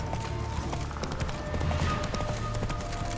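A horse gallops in The Witcher 3 video game with a steady, rapid clip-clop of hooves over a constant ambient bed, close and moderately loud.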